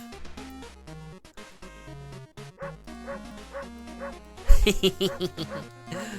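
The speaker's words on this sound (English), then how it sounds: "I love how you can make the Shiba bark." A Shiba dog in the horror game World of Horror gives short, cute barks over a looping melodic game soundtrack, with a brighter burst of sound near the end.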